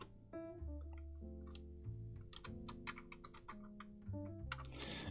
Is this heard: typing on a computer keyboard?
yes